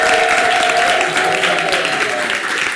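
A loud, sustained round of applause fills the space for a choir after a song at a Christmas family concert, dense clapping from a crowd continuing steadily throughout.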